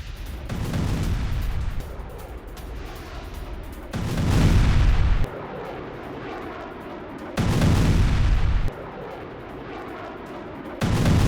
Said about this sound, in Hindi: रूसी फ्रंटलाइन पर यूक्रेन की बमबारी